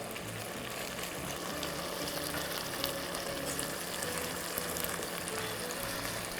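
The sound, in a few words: scallions sizzling in a pan with beer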